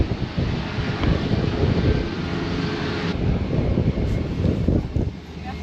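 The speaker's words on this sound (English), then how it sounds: "It's windy here." Wind gusts across an airport apron, a steady rushing buffet on the microphone that swells and eases throughout, with a low rumble beneath and no clear voices.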